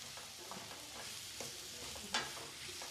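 Ground masala for paneer gravy fries quietly in a pan, a soft, low sizzle with faint stirring scrapes and one brief sharper clink near the end, heard alone without voices.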